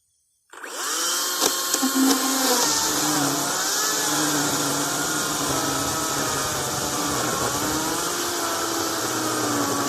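A Makita electric chainsaw starts up and cuts through a large piece of hardwood, a loud sustained motor whine with shifting pitch as the chain bites, close and without speech.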